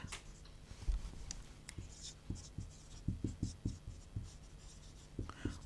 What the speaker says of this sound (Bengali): আমি একটু লিখে দিচ্ছি